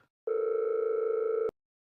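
An unanswered telephone call gives a single steady ring tone of a little over a second, a clean, slightly warbling electronic tone that starts and stops abruptly in silence.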